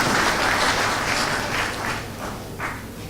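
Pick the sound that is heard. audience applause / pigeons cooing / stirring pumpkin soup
audience applause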